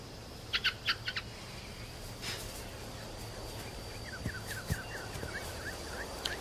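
A bird calls in a quiet outdoor setting, with a few sharp chirps early on and then a quick rhythmic run of repeated warbling notes, faint and somewhat distant over a low steady hum.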